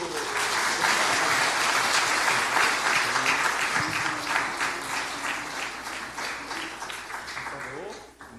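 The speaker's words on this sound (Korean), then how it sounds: "오, 박수" A church congregation applauds after a family's thanks, a loud sustained round of clapping that slowly tapers near the end, with some voices mixed in underneath.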